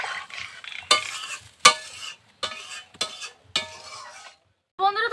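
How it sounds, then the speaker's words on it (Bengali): Water goes into a pan of potato and aubergine curry with pond-fresh fish, producing a series of sharp, loud sizzling and stirring bursts with brief pauses between them and no speech. "এখন এর মধ্যে জল দিয়ে দেবো।"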